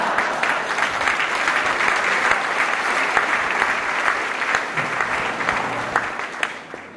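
An audience at an alumni and friends event claps steadily after a joke, a dense, even wash of many hands that holds for several seconds and tapers slightly at the end.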